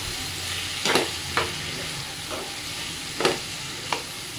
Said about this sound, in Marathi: आता आपण केळी घालून घेऊया।